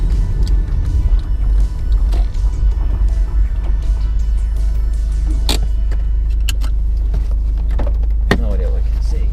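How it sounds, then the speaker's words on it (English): An Audi TT with the roof down drives along, its turbocharged engine giving a loud, steady low drone with occasional turbo whooshes, clicks and wind rush close by. "you can hear the turbo now with the roof down though"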